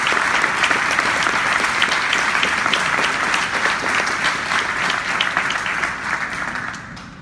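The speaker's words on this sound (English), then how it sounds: "Let's give all these deserving cadets a big round of applause." Loud, dense applause from an audience at a Navy Junior ROTC awards ceremony honoring cadets, steady clapping filling the room for about seven seconds before starting to taper at the end.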